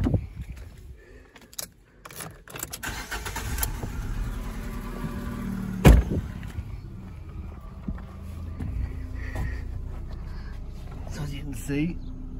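A campervan car engine cranks and catches, with a sharp thump mid-way, then settles into a low idle while a person talks throughout.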